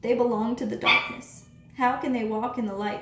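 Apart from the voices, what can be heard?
dog barking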